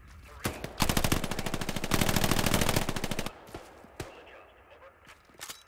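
Machine gun fire from the World War II shooter Hell Let Loose, played in foggy conditions: a sustained, rapid automatic burst lasting a couple of seconds, then scattered single shots. Distant battle noise sits underneath.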